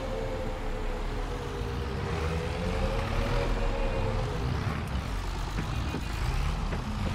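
A tractor in Farming Simulator 22 drives along with a steady engine drone that rises and falls slightly in pitch. It stays loud and continuous throughout with no talking.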